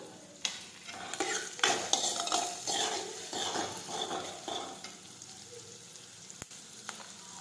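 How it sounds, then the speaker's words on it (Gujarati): Sautéing in a pan for sev tameta shak: a spoon scrapes and stirs in quick irregular strokes over a soft, quiet sizzle, with a sharp clink near the end. "આ રીતે આપણે સાતવતા જઈશું"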